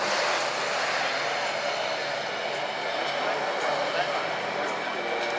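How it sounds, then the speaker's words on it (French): A Grumman Hawkeye, a large, very powerful twin-turboprop carrier aircraft, performs at the La Ferté-Alais air show in 2013, its engines and propellers a steady, loud broadband roar throughout with no gaps. "Cet avion, le Hawkeye,"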